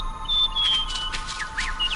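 Small cartoon bird chirping in an animated children's show, with several short bright tweets and thin whistled calls across two seconds, fairly clear over a soft background.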